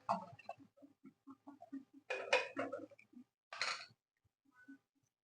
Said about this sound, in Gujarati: અને પછી આપણે દૂધ છે તે હલાવી લેશું